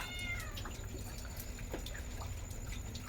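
A cat gives a short, faint meow near the start over a low, steady background hum, followed by a few soft scattered clicks and taps.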